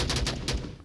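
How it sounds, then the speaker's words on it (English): A rapid burst of gunfire from the VR shooter Onward, several close, sharp shots in quick succession within under a second. "Gunshots coming out from Nardo"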